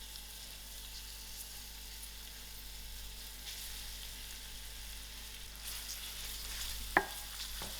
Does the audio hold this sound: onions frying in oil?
yes